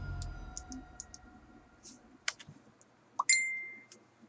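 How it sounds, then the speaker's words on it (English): A phone gives a short bright electronic chime near the end, after a sparse run of soft clicks and ticks in a quiet room. "Yeah, that's my phone."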